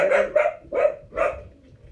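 Dogs bark four times in quick succession, sharp and close, with no talking.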